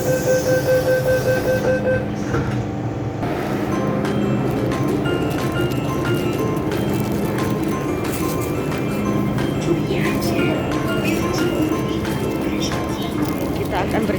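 Interior rumble of a moving passenger train approaching a station, a steady rolling drone with rattles and clacks and a brief chime, under people talking.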